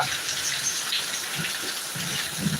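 Heavy rain pours down in Thiruvananthapuram, a dense, steady hiss of water hitting surfaces close by, with soft low thuds scattered through the continuous downpour and no voices.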